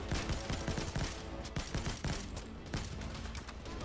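Rapid, dense automatic gunfire in Payday 2, a near-continuous burst of loud shots sustained throughout.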